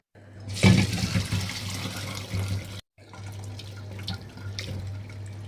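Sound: straining boiled meat and broth for cat food

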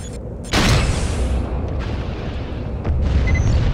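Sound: explosion of an enemy Vulture being destroyed in a video game

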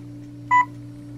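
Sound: two device ready tones

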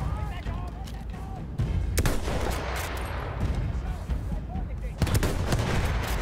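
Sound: gunshot in the video game Battlefield 1

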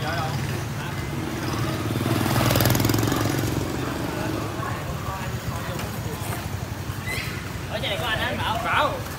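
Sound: motorcycle engine revving with Akrapovic full system exhaust

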